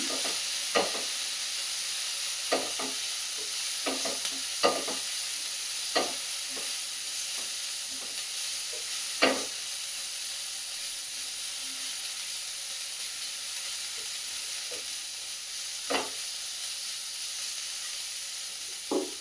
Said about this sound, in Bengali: একটু গাজর আর একটু পেঁয়াজ নিয়ে নিয়েছি এটা একটুখানি নেড়ে নেব আমি